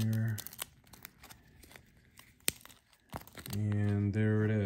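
A CW C60 Trident Pro 300 watch being unwrapped from its box, with close crinkling and tearing of packaging in short bursts, alongside someone talking.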